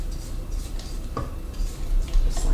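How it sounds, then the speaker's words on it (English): A spatula scraping carrot cake cookie dough down the sides of a mixing bowl, soft dull scrapes and light knocks heard up close against a low background. "We're going to scrape it down on the sides so it don't stick to the sides and all of it's mixed correctly."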